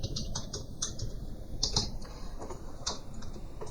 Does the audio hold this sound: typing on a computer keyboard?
yes